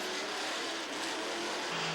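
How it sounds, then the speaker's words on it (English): Trans Am race cars at the 1984 Grand Prix of Trois Rivieres street circuit pass in a line, a steady blended engine roar with rising and falling revs, faint and distant, no voices. "a solid line of cars snaking down to turn 8"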